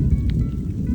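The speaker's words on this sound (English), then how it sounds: "Well, so much for low chance of rain." Rain falling on a fishing boat during a storm at sea, a steady dense hiss of close, moderately loud rainfall with low rumbling underneath.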